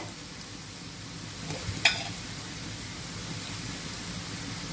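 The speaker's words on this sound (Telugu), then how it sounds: "క్యారెట్ ఫ్రై అయిపోయింది." Carrots fry in a pan with a soft, even hiss while being stirred, one brief metallic clink of a utensil near the middle, quiet throughout with no talk.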